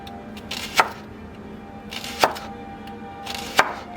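Knife chopping through the ends of leeks on a cutting board, three crisp, separate chops spaced about a second and a half apart, close and clear over faint background hum.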